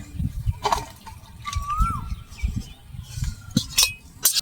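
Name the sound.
pouring vegetable curry onto a plate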